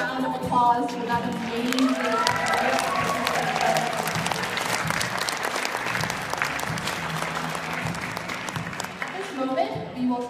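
Sustained audience applause at a university event following a spoken-word performance, dense steady clapping with occasional voices and whoops mixed in, continuing throughout.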